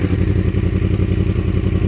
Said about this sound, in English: I'm here to show you how this thing sounds with the YOSHIMURA exhaust.